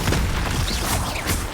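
A Confringo fire spell bursts in Hogwarts Legacy during a troll fight, a dense, rumbling blast that rolls on for over a second at steady loudness with low boom and crackling high noise.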